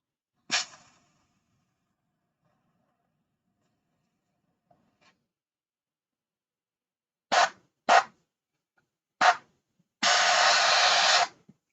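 Air is blown through a freshly painted screen to keep its holes clear, heard as several short, close bursts of hissing air separated by silence, ending in one longer sustained blast.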